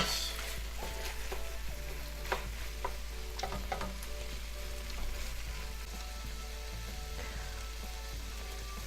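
Spicy Korean pork, jeyuk bokkeum, simmering in a pan: a faint, steady low sizzle with scattered small pops and crackles over a constant low hum, quiet and even throughout.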